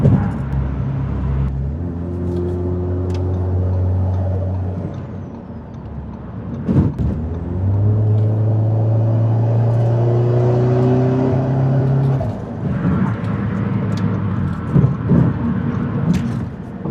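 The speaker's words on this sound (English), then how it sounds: "can hear the spool noises from this so much easier" Audi S3 8V pulling through gears, its engine droning and rising under load, with the turbo spooling as a steady whine. The car is close and loud, and a shift is heard midway.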